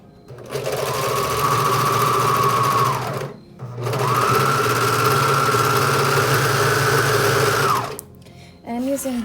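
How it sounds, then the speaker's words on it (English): A serger runs in two long bursts of steady mechanical whirring as it stitches fabric, pausing briefly between them, with a voice starting to speak near the end. "I'm going to use my serger for this"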